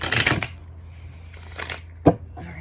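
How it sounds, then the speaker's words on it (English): Tarot cards are shuffled by hand, with a riffling burst at the start, softer card slides in the middle and a sharp tap near the end, all close and fairly quiet. "one more really good shuffle."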